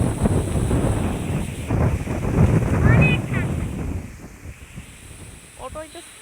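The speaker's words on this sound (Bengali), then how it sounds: "দেখেন বন্ধুরা কি পরিমাণে ঝড় বৃষ্টি হইতেছে," Strong wind and rain in a storm roar and gust into the microphone, loud at first and easing toward the end, with faint voices and a child's calls in the background.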